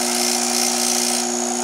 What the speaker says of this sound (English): it of course is a 3600 RPM motor, which most grinders are